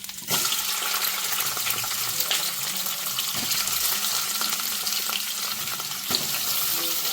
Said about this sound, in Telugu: ఇప్పుడు ఆలు వేయించేసుకుందాం